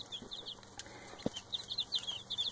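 Pippi, a young chick with angel wing that cannot walk, gives short, high chirps in small clusters, faint and fairly close, with a quiet pause in the middle.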